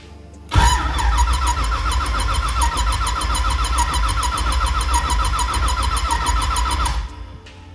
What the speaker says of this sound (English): I wonder if it's going to not let me start the car because of that